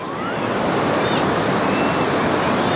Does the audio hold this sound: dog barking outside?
no